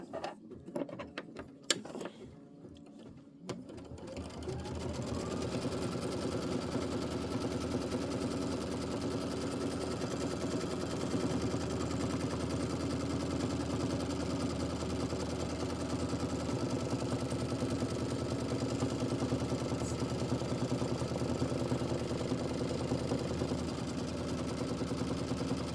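An embroidery sewing machine stitches out a Kimberbell quilt block. After a few clattering starts, it settles into a steady, continuous mechanical hum that lasts the rest of the clip.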